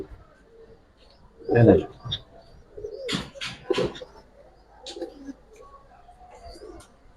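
Giribaz pigeons with silver and khaki coloring give soft, scattered coos among intermittent bursts of handling noise and movement close by.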